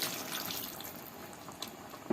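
Water splashes and gurgles as it is poured into a cooking pot of potatoes and eggplant, a brief close liquid rush with no talking.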